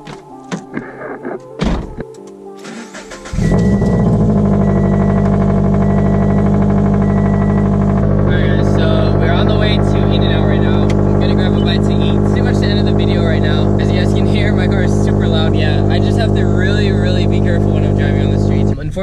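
A car with a very loud aftermarket exhaust starts with a few clunks and rustles, then the engine catches and drones loudly, revving higher and harsher partway through and holding a booming, raspy roar.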